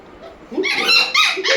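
A dog whimpers up close, a few high, wavering whines rising and falling in quick succession.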